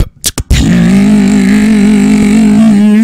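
A flying car's engine in the PUBG video game drones steadily and loudly after a few brief choppy bursts, holding one even pitch close up with no talking.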